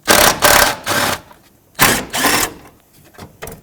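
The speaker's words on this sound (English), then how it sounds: "I'm going to unbolt the overflow tank with 2 10mm bolts." A ratchet wrench loosens the 10mm bolts holding the overflow tank on a 2009-2015 Toyota Prius, producing close, loud bursts of rapid clicking separated by short pauses.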